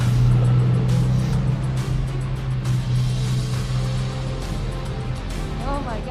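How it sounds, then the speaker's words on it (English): An F4 race car engine with a manual gearbox drones loudly and steadily near the microphone, its pitch holding and then shifting as the car is driven, with a short rising whine near the end. "First time driving manual in an F4 car is fucking scary"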